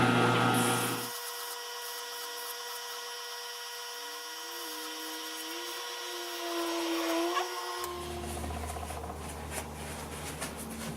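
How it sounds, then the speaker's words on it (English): A chisel is honed on a Triton sharpening system, a steady whirring grind of the powered wheel running for several seconds, with a slight rise in pitch near the end before it cuts off into quieter handling noise. "Alright, let's do a little honing."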